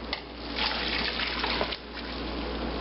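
Water pours steadily from a pitcher into a soup pot for vegetable beef soup, a continuous close splashing rush with a brief dip near the end, no voices.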